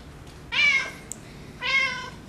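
Two clear, drawn-out meows from an indoor house cat, each lasting about half a second, close to the microphone in a quiet room with a brief click between them.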